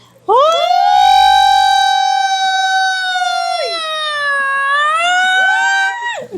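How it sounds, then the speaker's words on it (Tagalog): A loud, close ambulance siren wails in long rising and falling tones, nearly drowning out everything else. "Parang may ambulansya. Ang ingay."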